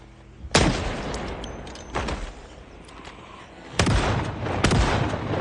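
Shotgun blasts in the Project Zomboid video game, four sharp loud booms spaced unevenly with decaying tails between them, no speech.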